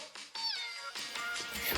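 A video game cat meows several times in quick succession, close and loud, each call bright and drawn out.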